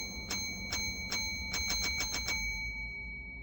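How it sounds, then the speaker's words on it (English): Bell rung repeatedly in a Scriptwelder video game: about eight bright dings, spaced at first then quicker in succession, over a quiet hum with no talk. "you can ring the bell here, and then keep ringing it."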